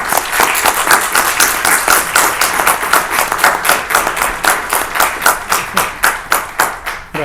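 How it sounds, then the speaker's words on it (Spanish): An audience in a hall assembly room applauds loudly and steadily, with dense, rhythmic clapping from many hands close by and no talk. "Aplaudimos."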